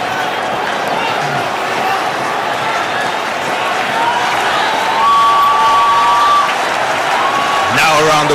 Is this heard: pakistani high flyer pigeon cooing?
no